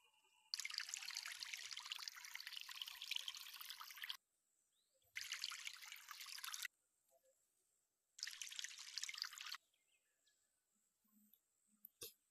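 A watering can pours onto crops in the Harvest VR farming game, making three separate bursts of splashing, trickling water with quiet pauses in between.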